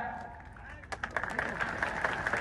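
A crowd at a political rally in Mandhata, addressed by Scindia, breaks into scattered, moderately loud clapping that builds partway through, heard under a man's amplified speech.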